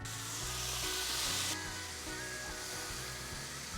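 Bubba bacon sizzling on a preheated griddle over a grill outdoors, a bright dense crackle that softens after a moment, with low background music beneath.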